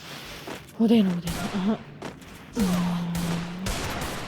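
Bursts of gunfire crack out in a video game, several short volleys spread across the stretch while someone talks over them.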